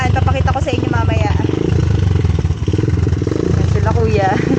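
A motorcycle used on a rough road to Roty Peak in Bukidnon, Philippines, idles loudly close by with a fast, even engine throb, while people talk over it.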